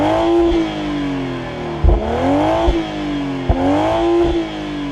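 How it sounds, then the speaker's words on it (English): A 2025 Toyota GR Supra A90 with twin large exhaust pipes revving repeatedly, the engine note rising and falling in loud cycles with sharp pops and crackles between revs, close up and without speech. "There are also 2 giant exhaust pipes which do sound pretty incredible"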